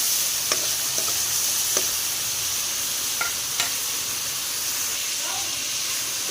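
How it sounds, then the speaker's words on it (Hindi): Vermicelli roasts in a pan with a steady close hiss and sizzle, broken by light stirring scrapes and clicks as it is tossed, and no one talks. "अच्छे से हम इसको भूनेंगे कलर चेंज होने तक"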